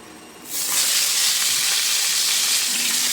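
Tilapia drops into hot oil in a non-stick pan and bursts into loud, dense sizzling that holds steady after a quieter start, with no voices over it.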